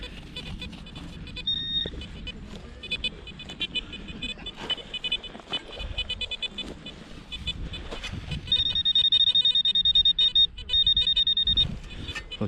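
Electronic signal tones from a metal detector with a large search coil sweeping over a buried target in a field, repeated beeps that become a steady, strong tone in the latter part.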